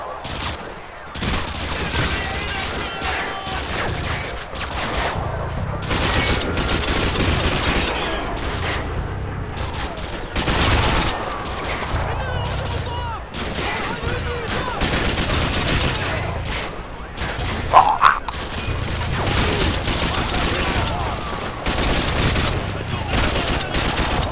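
Gunfire in Modern Warfare 2 multiplayer, with dense bursts of automatic weapon fire and shots crackling almost continuously, plus a sharper blast near the end, over busy game background noise.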